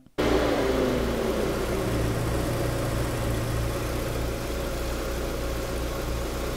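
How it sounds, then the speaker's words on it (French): A Volkswagen Corrado G60 engine starts and settles into a steady, low idle while warming up, running evenly and fairly close with no voices. "Je remets le moteur en route. Je laisse chauffer."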